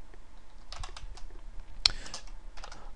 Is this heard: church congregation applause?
no